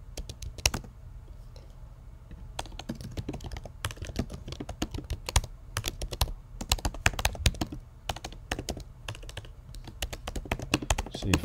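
Keys clatter on a computer keyboard while someone types out Swift code. The keystrokes come in irregular close-up bursts with short pauses, crisp and moderately loud, and no one talks over them.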